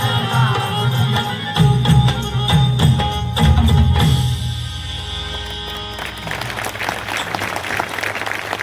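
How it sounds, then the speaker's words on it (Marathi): Crowd applause at a Chhatrapati Sambhaji Maharaj birth anniversary celebration with a shahir folk performance, steady dense clapping over sustained music, loud throughout and thinning slightly toward the end. "म्हणजे टाळ्यांचा गजर"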